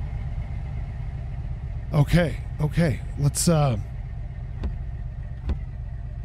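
A car engine idles in the garage game My Garage with a steady low rumble throughout, while someone briefly speaks over it and a couple of faint clicks follow.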